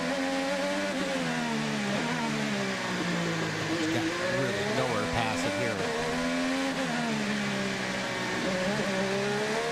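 IndyCar race cars accelerate hard on the Long Beach street circuit, loud engines screaming with rising and falling pitch as they pass and shift, continuous roar throughout with a commentator's voice faintly underneath.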